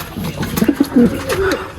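A male Beauty Homer pigeon gives soft, low cooing calls in a loft, several short rolling coos close by, with a voice talking over them.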